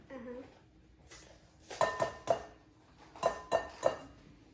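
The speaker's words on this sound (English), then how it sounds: "Charlie, your job is gonna be to crack those eggs into this bowl" Eggs are cracked against a mixing bowl in a kitchen, with several sharp taps and clinks arriving in two quick clusters of three, close and fairly loud over a quiet room.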